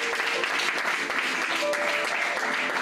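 A church congregation at a French-speaking Sunday service at ICC Massy-Palaiseau applauds and acclaims the Lord with steady, lively clapping and a few raised voices mixed in.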